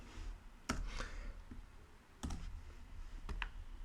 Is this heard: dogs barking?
no